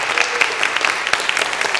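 Sustained applause from an audience at a Hurricane Harvey fundraising concert, a dense, steady patter of many hands clapping at close range.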